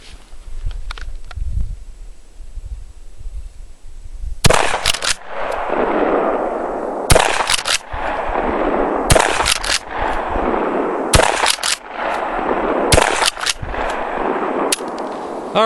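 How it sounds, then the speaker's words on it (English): A Benelli shotgun fires five loud, evenly spaced shots of Remington 3-inch triple-aught buckshot. Each sharp blast booms nearby and rolls into a long echoing decay, after a stretch of quiet shuffling. "I'm going to fire that same Remington 3-inch triple-aught buck out of the Benelli 5 shots"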